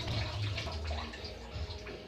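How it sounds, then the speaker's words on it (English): Hands are washed under a running kitchen tap while preparing fresh seabass, a close, steady splashing and trickling of water lasting about two seconds, with no talk. "so I'm going to wash my hands"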